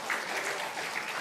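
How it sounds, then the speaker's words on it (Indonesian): A church congregation gives a short, soft round of applause that sounds somewhat distant and fills a large room. "Berikan tepuk tangan buat Tuhan kita"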